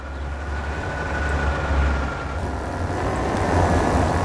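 A train passing in the railway game Transport Fever 2, a steady low rumble and rolling drone that swells slightly as it goes by, continuous with no speech.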